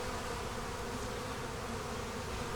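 Honey bees swarm around an open hive in South Carolina, making a dense, steady buzz that holds even and unbroken, close and moderately loud, with no voices.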